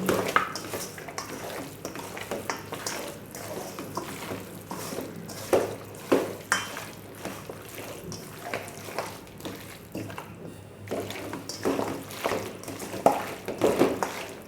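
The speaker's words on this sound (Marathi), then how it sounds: "दोन ते अडीच चमचे मीठ लावून घेतलेलं आहे हे सगळं आता मिक्स करून घेऊ" Mutton is stirred and mixed with salt and turmeric for a spicy mutton curry, with soft wet squelching and scraping against the vessel in irregular bursts, fairly faint and close.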